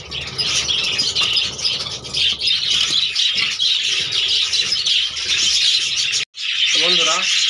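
Dense, continuous chatter of a budgerigar colony in an aviary, many birds chirping and warbling at once, loud and close throughout with one brief drop near the end before the calling resumes.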